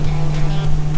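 Motorboat outboard engine and propeller run at raised revs under half trim, a loud, steady drone with a strong constant hum through the whole short stretch.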